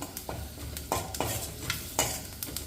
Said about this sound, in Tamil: அது பச்சை வாசனை போகிற வரைக்கும் நல்லா வதக்கி விட்டுக்குங்க.